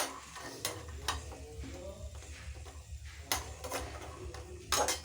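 Leafy greens cooking in a kadai, with soft sizzling and the scrape and clatter of a spatula stirring at intervals, fairly close and moderately quiet throughout.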